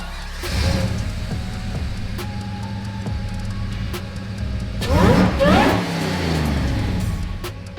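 A burnout car's engine revs hard at Bunbury Speedway during a competition, a loud sustained roar with rising and falling pitch swells and a sharp surge midway, close and continuous with no talk.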